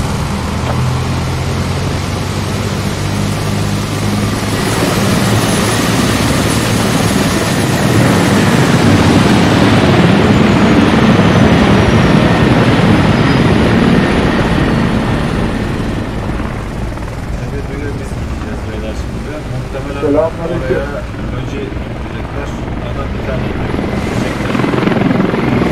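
A helicopter in the military shooter game Squad flies nearby, its loud continuous rotor thrum and engine drone swelling and then easing slightly, with people talking over it.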